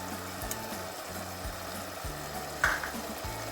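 Spiced garam masala being stirred and fried in a pan, with soft sizzling under repeated scraping strokes of a spoon about every half second and one sharper clack near the end.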